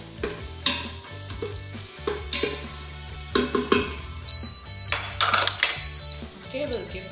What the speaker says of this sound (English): go straight into frying the onions